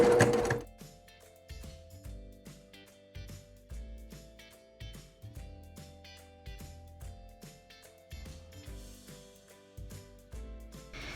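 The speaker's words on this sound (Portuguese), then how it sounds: "E aí eu venho costurando até o final" A domestic sewing machine stitches fabric for a rounded triangular zip pouch, running in a steady, rapid mechanical chatter with brief pauses and restarts, close and moderately quiet.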